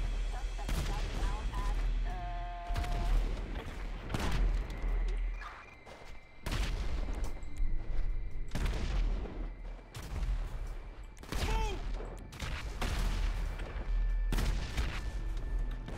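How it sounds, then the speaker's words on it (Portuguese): Explosions in the video game GTA V, a series of loud booming blasts spread across the scene, with someone talking between them. "Tô escutando explosões, hein?"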